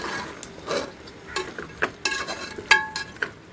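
Potatoes, beans, carrots and green peas for vegetable biryani are stirred in a pot, with a spoon scraping and clinking against the metal in scattered short strokes over a faint sizzle.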